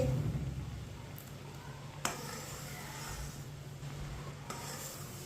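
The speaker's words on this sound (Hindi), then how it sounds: "अब इसे 3 मिनट के लिए और बॉईल कर लेंगे।" Sharbat mixture boiling in a pot on the stove, a soft steady bubbling hiss with low rumble, a few faint clinks, no talking.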